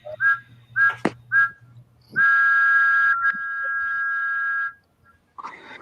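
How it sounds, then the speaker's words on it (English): Thomas the Tank Engine's whistle played on a Percy toy train: three short toots, then one long sustained blast that fades, with a brief sound at the end. "So here's Percy with Thomas's whistle."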